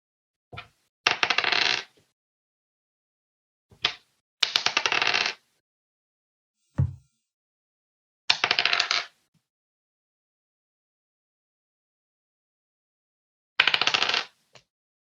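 Dice clatter and rattle across a table during a tabletop D&D game: five or six short, sharp bursts of rolling with silent gaps between them, close and clear.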